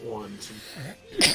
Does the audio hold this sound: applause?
no